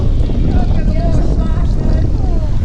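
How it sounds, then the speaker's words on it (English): Strong wind buffeting a boat at sea, a loud continuous roar of gusts pounding the microphone with rushing noise throughout, while faint voices come through underneath. "very bad wind right now"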